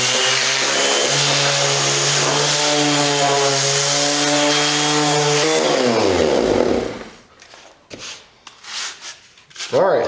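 A 5-inch random orbital sander with soft, pliable heavy-gauge rubber parts runs steadily and fairly quietly for about seven seconds, its low hum dropping as it winds down before scattered handling noises follow.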